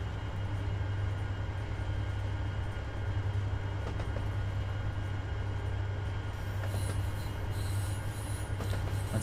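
Locomotive running in the Train Sim World 3 game on the Niddertalbahn line, a steady low rumble with a persistent hum and faint rail clatter and squeal, continuous and even, no voices.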